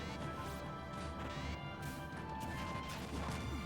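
A heavy smash hit in a Super Smash Bros fighting game sends a fighter into the screen, giving a crashing impact with bright metallic ringing and scattered sparkly effects, quiet and without talk.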